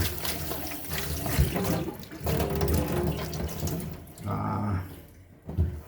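Tap water runs into a kitchen sink during cleaning, pouring and splashing in bursts that stop briefly and start again, close by and fairly quiet.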